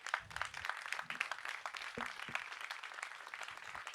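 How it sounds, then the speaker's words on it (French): A conference audience gives faint, scattered applause for city council members, soft, uneven clapping heard from a distance at low volume. "En tout cas, on peut les applaudir"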